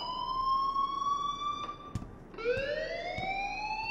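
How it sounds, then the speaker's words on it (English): An electronic alarm in the Life Is Strange video game wails in steady rising and falling tones, loud and close, with one brief break in the middle and no talking. "please turn off that alarm since that's your job"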